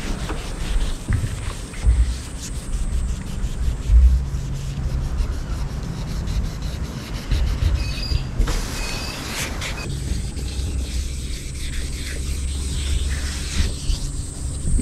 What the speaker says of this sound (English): we're going to sand out all the rust and repaint it as well